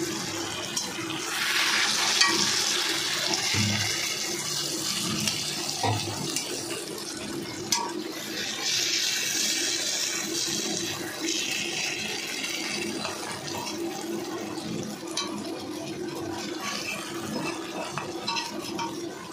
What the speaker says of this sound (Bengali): দিয়ে এবার একটু জল দিয়ে দিতে হবে তার মধ্যে।